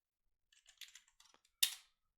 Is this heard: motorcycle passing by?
no